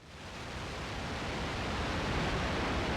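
A dense, steady hiss of broadband noise from a Yamaha CS-50 analog synthesizer's noise generator, slightly swelling in loudness, with no other sounds.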